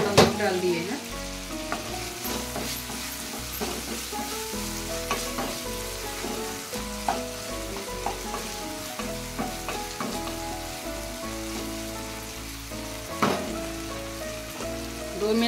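Tomatoes and capsicum fry in a pan, a steady loud sizzle broken by regular scraping and knocking as a spoon stirs them, with no voices.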